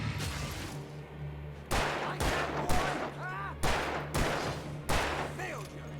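Repeated gunshots from the video game Alan Wake, about six sharp, loud blasts spaced irregularly with decaying tails, alone without talk.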